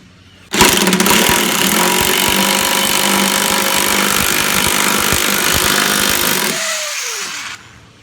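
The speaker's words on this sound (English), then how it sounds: "I'm using the impact socket just driving right down." Impact wrench driving a bolt to tighten the blade on a Craftsman 42-inch mower deck, a loud rattling burst of hammering lasting about six seconds, close up, then spinning down.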